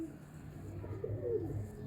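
A Jonsiry pigeon, an old bloodline bird, gives soft low coos in short rolling phrases, close and fairly quiet, with faint background noise and no talk.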